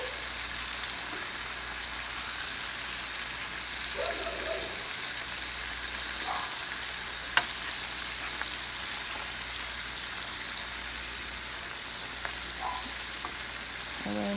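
Chicken pieces fry in a pan with a steady, close crackling sizzle, a faint clink now and then from turning them.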